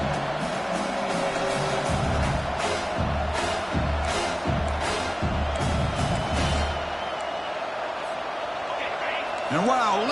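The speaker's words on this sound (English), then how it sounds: "listen to this crowd noise. This stadium is vibrating." Stadium crowd roar in a Madden NFL football video game, a sustained loud wash of cheering and whooping that stays steady throughout, with no talk.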